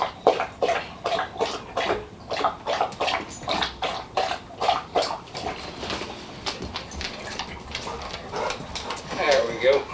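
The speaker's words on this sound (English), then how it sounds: "The video wouldn't be complete without Knox drinking a ton of water." A dog named Knox laps water from a bowl in quick, rhythmic slurps, a steady wet pulse close to the microphone that runs for several seconds.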